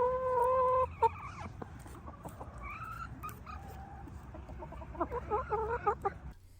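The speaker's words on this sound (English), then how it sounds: "There may be chickens from time to time." Chickens clucking in short, irregular bursts with a few sharper calls, fairly close but moderate in level, with steady outdoor background noise running underneath.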